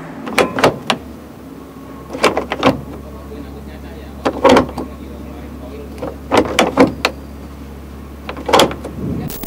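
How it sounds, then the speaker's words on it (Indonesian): Metallic clacks and clicks from the classic metal gated gear shifter of a Ferrari 365 GTB/4 Daytona Competizione, shifted in several short clusters of two or three sharp knocks, close up. "ini adalah shifter klasik Ferrari dengan bahan-bahan metal dan suara waktu shifting itu"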